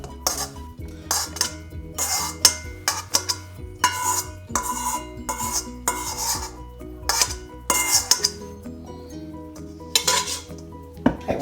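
Chopped chillies, garlic and ginger spooned into a food processor for habanero sweet chilli sauce, giving repeated close metallic scrapes and clinks of a spoon against the bowl in an irregular rhythm over about eleven seconds.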